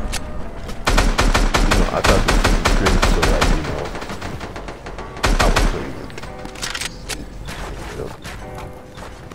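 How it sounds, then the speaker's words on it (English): Video game battle gunfire, a dense rapid burst of loud shots followed by a second volley and scattered reports, with a sniper rifle shot among them and no talking. "Oh, I missed that sniper shot."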